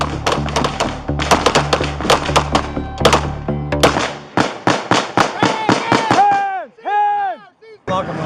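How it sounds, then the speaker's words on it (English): A rapid volley of loud, sharp gunshot cracks rings out close by during a police confrontation, then gives way to shouted voices. "Stand by, we have shots fired."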